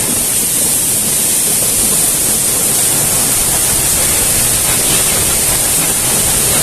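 Rain begins falling at Mini Ella, a hidden waterfall in Sri Lanka, blending into one loud, unbroken wash of hissing water that holds steady from start to finish with no voices.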